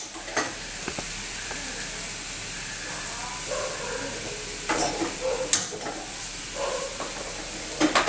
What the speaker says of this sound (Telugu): కాజు అండ్ కిస్మిస్ వేయించుకుందాము